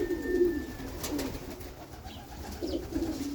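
Pigeons cooing close by in soft, low repeated coos, with a faint chirp in the background and no talk.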